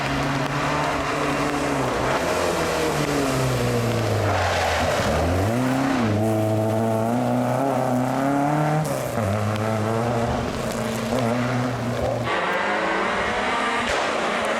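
A Renault Clio rally car's engine revs hard and repeatedly, pitch climbing and dropping through gear changes, loud and close, with no talking.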